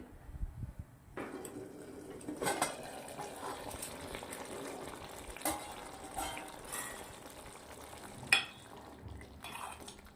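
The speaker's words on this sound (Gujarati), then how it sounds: "હવે આપણે આને ધીમા તાપે 10 મિનિટ સુધી પાકવા દેવાનું છે." Matar aloo curry with fried potatoes simmers gently on low heat in a pot, giving a soft, steady bubbling hiss broken by faint clinks and stirring scrapes, with no voices.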